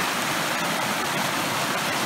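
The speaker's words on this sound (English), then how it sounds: "We made it to the brook between Burke Lake and Sunday Lake." A brook flows between Burke Lake and Sunday Lake in the Boundary Waters wilderness, a close, steady rushing hiss of water with no breaks or talk.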